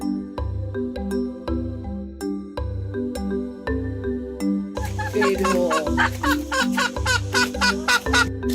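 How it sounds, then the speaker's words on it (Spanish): A hen clucks in short repeated bursts over a steady, rhythmic musical backing in a children's animal-sounds setting, with a busier, brighter stretch of clucking and cackling in the second half. "Gallina."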